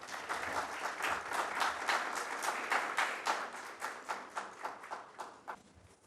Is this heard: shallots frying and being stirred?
no